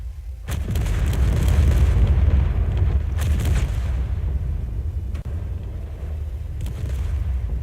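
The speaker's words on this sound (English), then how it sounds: "let's just watch these reactors get completely and utterly destroyed" Reactors blowing up in Space Engineers, a series of deep booming explosions with sharp cracks and long rumbling tails, loud and dense, without any talk.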